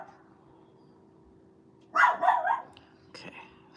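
A dog gives a couple of sharp, close barks after a quiet stretch with a steady low hum, then one shorter yap follows.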